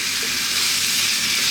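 Lean ground beef sizzling in a pan over medium heat for chili con carne, a steady dense hiss of frying that carries on without pause and with no talking.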